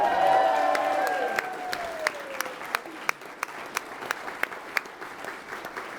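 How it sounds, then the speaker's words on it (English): Wedding guests at a Jewish ceremony break into applause and cheering, a warm crowd burst with some voices that thins into scattered, distinct claps as it fades. "You can cheer."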